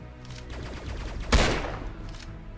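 A loud gunshot blast in a fast-paced shooter video game, cracking sharply amid a busy backdrop of other gunfire and game noise.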